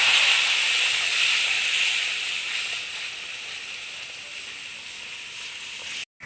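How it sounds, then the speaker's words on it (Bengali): Mango paste poured into a pan of reddish fried semolina for mango barfi sets off a loud, steady hissing sizzle that eases slightly over several seconds before cutting off abruptly near the end. "সুজিটা লাল করে ভেজে নিয়েছি এবার পেস্ট করে নেওয়া আমটা দিয়ে দিই"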